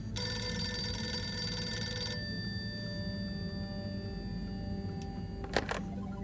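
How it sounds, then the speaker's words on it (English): A red phone rings in the video game Harold Halibut, a bright, steady electronic trill lasting about two seconds before cutting off, leaving quiet ambience and a brief later clatter. "A red phone."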